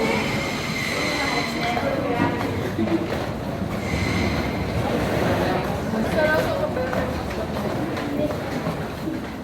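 A train at Amsterdam Central station, with rolling wagons, wheel squeal and clatter in a steady, busy ambience, and people talking nearby throughout.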